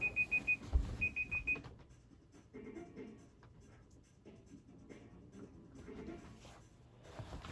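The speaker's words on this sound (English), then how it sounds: "I have a timer on my laptop, so I keep track of how long I'm talking" Laptop timer alarm beeping in two short bursts of rapid high electronic beeps at the start, followed by quiet room noise and faint rustling.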